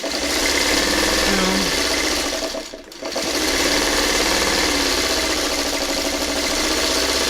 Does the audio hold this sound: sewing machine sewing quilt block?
yes